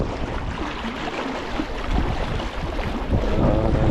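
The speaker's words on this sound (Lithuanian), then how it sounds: "Vėjas blemba, vangelės kyla" Wind gusting over a lake with small waves lapping during cold winter fishing in Finland, a steady broadband rush that swells slightly louder toward the end.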